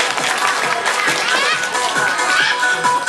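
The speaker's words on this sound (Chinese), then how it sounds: "给阿诺掌声鼓励" An audience at an animal show on an ecological farm claps and cheers for a short-legged performing animal, with scattered applause and lively crowd noise mixed with an announcer's voice throughout.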